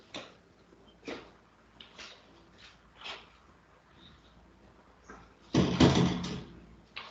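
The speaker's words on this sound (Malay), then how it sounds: "Dia duduk gegar-gegar je pintu tu." A cat rattling a closed door to be let in: repeated short knocks and rattles about once a second, followed by a louder, longer clattering burst, heard fairly close in a quiet room.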